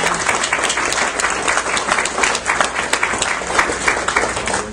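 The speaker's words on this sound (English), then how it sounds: "let's go ahead and give all of our lawmakers a big round of applause today." At a legislative luncheon, a room of guests applauds lawmakers with loud, dense, sustained clapping that stays full throughout without a voice over it.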